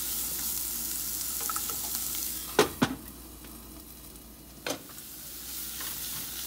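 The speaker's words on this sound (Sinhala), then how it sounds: "දැන් මේ ලූණු ටික රන්වන් පාට වෙනකම් අපි ෆ්‍රයි කරගන්න ඕන" Onions frying in a pot for a mushroom soup, a faint steady hiss broken by a couple of sharp clatters of a spoon or lid against the pot.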